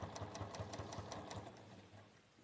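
An industrial sewing machine stitches over a seam with heavyweight thread, a rapid, steady mechanical chatter close by that slows and fades toward the end, with no voices.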